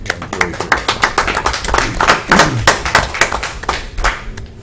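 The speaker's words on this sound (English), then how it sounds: "I would like to add to that a job well done and a round of applause." Attendees at a city police commission meeting give a brief round of applause, dense close clapping from a small room that swells and fades over a few seconds.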